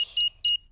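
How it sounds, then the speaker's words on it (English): A house alarm panel gives two short, bright electronic beeps as it is switched back on, close and clear with a brief gap between them. "Switch the alarm back on."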